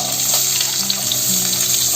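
Steady sizzling of onions frying in hot oil, continuous and close, with faint stirring scrapes in the pan.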